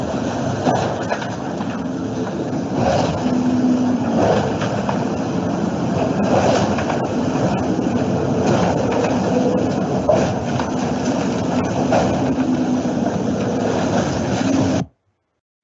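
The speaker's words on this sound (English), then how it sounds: "that's the sound of the boat kind of slamming around" A racing sailboat on hydrofoils slams and shudders through the water, a continuous loud rumbling roar with repeated heavy thuds and rattles, close and unbroken, ending abruptly.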